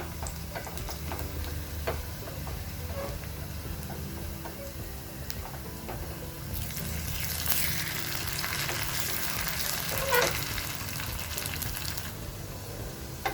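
Onions frying in a pan for bitter gourd curry, a steady close sizzle with occasional ticks and crackles that swell louder midway.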